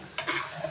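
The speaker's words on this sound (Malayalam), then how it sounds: "ക്രിസ്പിയാണ് ഉരുളക്കിഴങ്ങ്" Potatoes frying crisp in hot oil, stirred in a pan: a brief scrape of the stirring utensil over a steady sizzle, close and fairly loud with no voices.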